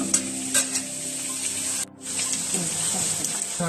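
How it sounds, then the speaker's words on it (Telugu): Chicken liver frying in a pan while chili powder and coriander powder are stirred in, a close continuous sizzle with scraping spoon strokes and a brief dip partway through, no one speaking. "ఇప్పుడు మనం కారము మసాలాలు ధనియాలు కూడా యాడ్ చేసేస్తున్నాం"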